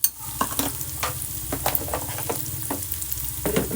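Onion and spices for a bitter gourd curry sauté in a pan with a bright, close sizzle, punctuated by a series of sharp spoon scrapes and stirs, no talking.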